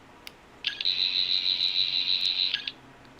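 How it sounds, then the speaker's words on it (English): A toy sonic screwdriver gives a steady high electronic whine for about two seconds, starting and stopping abruptly, with brief chirps at the edges, loud and close. "If you pull back on the little switch, you get just your standard sonic sound."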